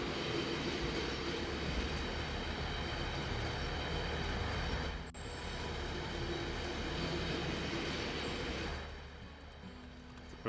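A Freightliner coal train rolls along in the Infinite Rails video game, a loud, continuous rail rumble and hiss that dips briefly midway, then eases slightly near the end.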